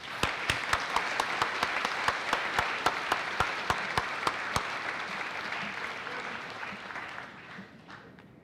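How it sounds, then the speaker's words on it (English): Applause from the audience at a high school senior honors night for an outstanding senior award winner, steady and sustained with a few sharper claps near the front, gradually thinning and fading out toward the end. "One more round of applause."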